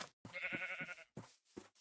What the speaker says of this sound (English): Okay, there's more sheep over here.